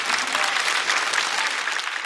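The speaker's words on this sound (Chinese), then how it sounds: "再次掌声送给陈曦" A stand-up comedy audience claps in a steady, dense burst of applause filling the room, close and loud throughout.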